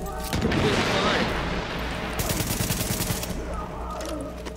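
Loud rapid gunfire bursts from Tom Clancy's The Division, crackling in quick volleys with an explosive boom at the start, mixed with faint voices.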